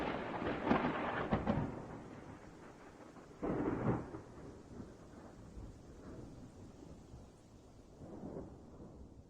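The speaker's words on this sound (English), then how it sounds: "I might even throw a little lightning and thunder sound effect in there just for shits and giggles." Lightning and thunder sound effect: rolling, rumbling thunder cracks in uneven bursts, loudest near the start and again a few seconds in, fading between them and rising once more at the end.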